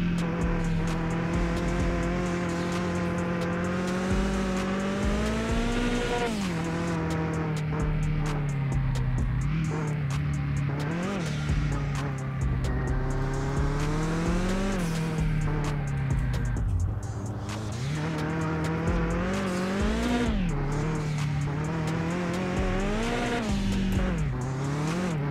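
A BMW E36 race car in Mon Bazou, its engine droning and rising and falling with throttle over a long stretch, joined by tire squeal and skidding as it slides, close and continuous.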